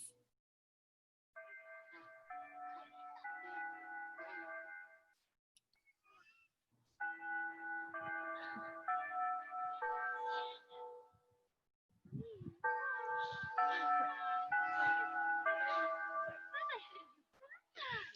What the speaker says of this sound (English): They have a PA system where they sound the chimes at 12 o'clock